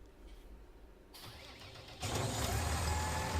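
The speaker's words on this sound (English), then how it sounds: "We can leave our tractor running." A tractor engine in Farming Simulator 19 idles quietly, then grows louder in two steps as the rumble rises, running steadily close by.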